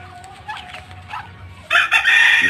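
Backyard chickens, hens with their chicks, murmur and cluck softly before a rooster breaks in with a loud, close cock-a-doodle-doo crow that fills the last second.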